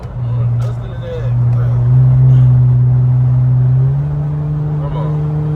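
A twin turbo Infiniti Q50 accelerating on the road, a steady loud engine drone that climbs slowly in pitch, heard from inside the car with people talking over it.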